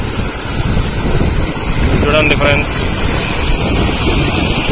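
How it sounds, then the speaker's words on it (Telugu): Heavy floodwater pouring over the Sri Rangarajupalli bridge in Hindupur after heavy rainfall, a loud continuous rushing roar with wind buffeting the microphone, while someone talks over it. "భారీగా నీళ్ళు వస్తున్నాయి"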